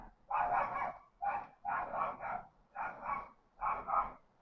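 A neighbor's small, yappy dog named Benji barks outside in quick repeated bursts of yips, somewhat distant and faint, several clusters of barks with brief pauses between them.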